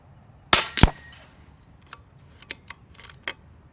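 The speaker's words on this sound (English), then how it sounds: "a clunk at the very end as you index the mag" A Kalibrgun Cricket II .30 air rifle being cocked: two sharp, loud metallic clacks close together, then a run of lighter clicks and a clunk as the magazine indexes, all close by with no talk.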